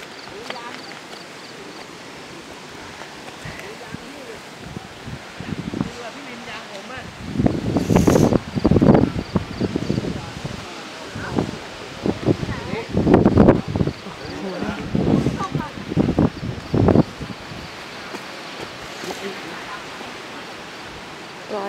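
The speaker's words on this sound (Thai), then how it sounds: "ลมแรงมาก" Strong wind on a mountain at the Thai–Myanmar border in the rainy season, a broad roar that swells into loud gusts in the middle and then eases, heard alone without talk.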